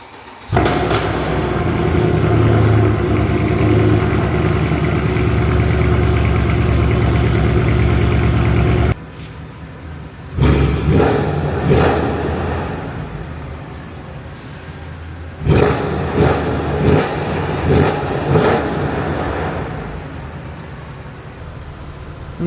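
A Mercedes C63 AMG V8 idles with a loud, steady rumble, then drops off and returns in several rising bursts of revving, heard up close without talk.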